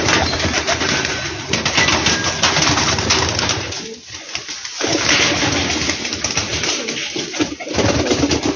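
Black Teddy pigeons coo steadily and close by, layered with dense rustling and background noise from the loft, with only a brief lull partway through.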